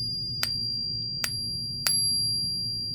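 Three sharp metallic pings from a non-silver coin being tapped, each bright and high-pitched with a short ringing tail, evenly spaced about 0.7 seconds apart over a steady low hum.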